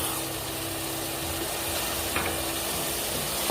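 Tomatoes stirred in an oily pan while cooking tuna biryani: a steady sizzle and fry with soft scraping of the spoon, continuous and close.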